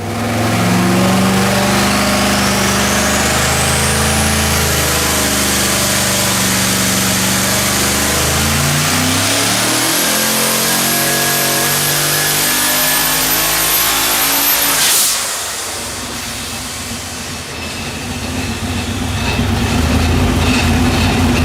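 A quad turbo LS V8 on an engine dyno screams through hard, loud full-throttle pulls with rising pitch and turbo whine, drops off sharply for a moment, then builds again into another sustained roar.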